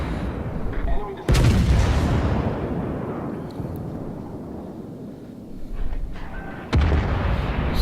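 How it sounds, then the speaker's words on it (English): Heavy warship main-battery gunfire in the World of Warships naval game, two booming salvos with rumbling decay between them, loud and close over a constant wind-like background roar. "I take a couple of shots at the enemy ships, and then I take a couple of shots at the shore batteries."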